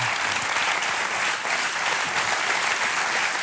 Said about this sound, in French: on l'applaudit une fois,